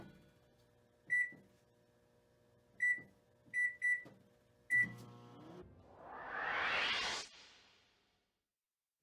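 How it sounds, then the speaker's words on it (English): A microwave oven heating noodles topped with cheese: a steady low hum broken by several sharp beeps, a door clunk, then a rising whooshing rush that fades to silence. "I microwaved it till we got that perfect sheen of melt"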